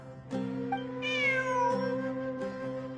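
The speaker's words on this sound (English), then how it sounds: "Look, a cat." A cat meows in Genshin Impact, a few clear, close, drawn-out mews with rising and falling pitch over a soft steady in-game background tone.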